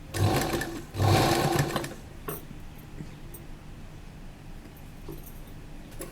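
A sewing machine stitches lace onto an A-line kurta in two short, quick bursts near the start, then the room falls to a low hum.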